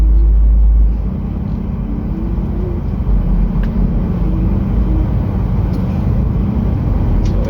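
Night road traffic on a busy street near Batasan, heard as a steady low rumble of car and bus engines passing close by, with a deep thud at the start and a continuous loud wash of tyre noise.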